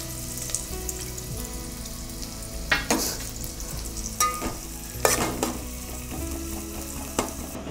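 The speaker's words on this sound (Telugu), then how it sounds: "సో మనం నెయ్యిలో వేసుకుంటున్నామండి ఉల్లిపాయల్ని. సో నెయ్యిలో ఉల్లిపాయ ఫ్రై అయిపోయండి." Onions with ginger garlic paste fry in hot ghee, a steady soft sizzle with stirring scrapes and occasional sharper clinks of the spoon against the pan, close and alone without talk.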